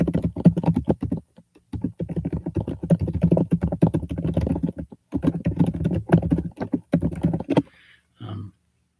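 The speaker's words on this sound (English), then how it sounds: "Sorry, my typing is slow here." Keys clatter on a computer keyboard in quick bursts of typing, broken by short pauses, close and fairly clear, ending in a few sparse taps.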